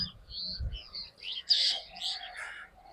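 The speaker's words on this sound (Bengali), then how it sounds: "পাখিগুলো ডাকছে।" Pigeons and mynas call outdoors on a foggy morning, a few faint scattered chirps and short calls at a distance over low rumbling background.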